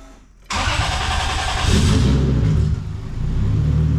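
A car engine cranks and catches suddenly, revs briefly, then settles into a loud steady idle up close.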